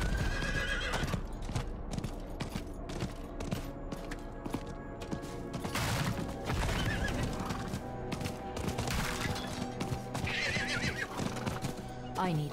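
Rapid clip-clop of horse hooves galloping steadily in the video game Diablo IV, with a horse whinnying, over a busy game soundtrack with faint gunfire.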